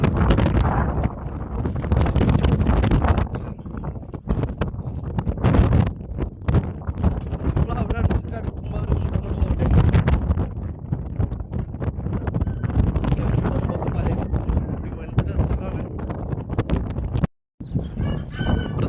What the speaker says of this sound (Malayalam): ഒരു കാറ്റ് വന്നിട്ടുണ്ടെങ്കിൽ സംസാരിക്കാനും പറ്റില്ല